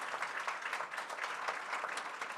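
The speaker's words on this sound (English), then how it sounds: "A quick round of applause for our panelists." A conference audience applauds the panelists after a discussion on the open lakehouse stack, producing a steady, even patter of many hands clapping at moderate volume without pause.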